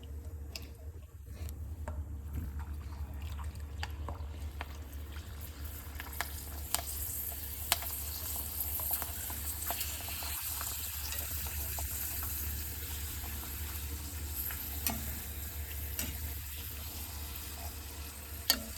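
Steady hiss and crackle of homemade potato chips frying in hot oil over low heat, continuous and close, with occasional small pops and faint clinks.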